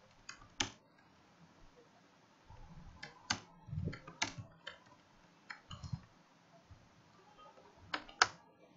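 Java code is typed on a computer keyboard in uneven bursts of crisp, close key clicks with pauses between runs of keystrokes.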